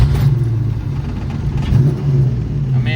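A 1989 Ford Mustang with a hard-start problem runs its engine while driving, giving a steady, loud low rumble with slight swells as it accelerates, heard from inside the car with no talking.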